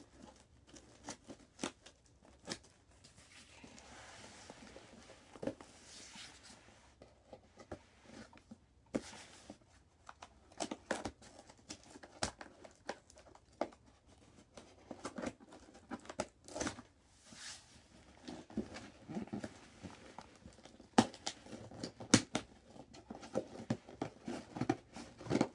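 Poor-quality scissors cut and crinkle open a plastic package of markers, with irregular snips, tearing and rustling crackles scattered across nearly half a minute, close and fairly quiet.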